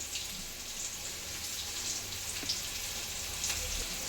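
Onion and curry leaves frying in hot oil for avalakki uppittu give off a steady close sizzle with faint crackles and pops, and no voices come through.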